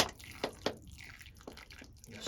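Water is poured onto freshly planted onion seedlings in compost, giving a few soft splashes and drips in quick succession, close by and alone.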